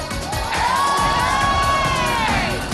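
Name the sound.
crowd cheering and shouting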